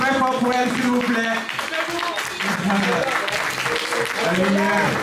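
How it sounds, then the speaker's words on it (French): Audience applause greeting Miss Guinée de France as she makes her entrance, a steady loud clapping crowd sustained throughout, with an amplified announcer's voice speaking over it. "Veuillez applaudir très fort pour elle, s'il vous plaît."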